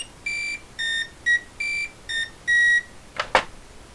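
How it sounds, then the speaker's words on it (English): An Ideal Maniac handheld electronic game plays a series of six beeps at varying pitches and lengths, evenly spaced, followed by two quick clicks or taps. "so it plays random beeps"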